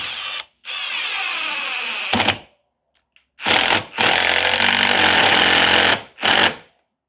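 Drillpro brushless impact driver run at its highest torque setting, loud rapid hammering bursts in several separate runs of a second or two each, with short silences between.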